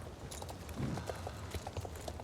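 A horse's hooves clip-clop in a steady, quick rhythm in a video game, the regular hoofbeats sitting over a continuous noisy background.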